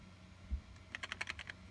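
Keys clatter on an old 1998 Ford Motor Company computer keyboard: a soft thump, then a quick burst of about eight crisp keystrokes close by in a quiet room.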